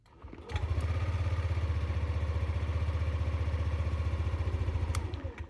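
A Yamaha Zuma 125 scooter starts with barely any starter noise and settles into a steady, rhythmic low idle, close and continuous for several seconds before shutting down.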